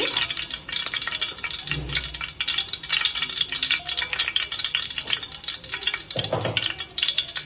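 Cumin and fenugreek seeds dry roasting in a pan, giving a steady, close, dry rustling crackle with a few soft knocks of stirring and no voices.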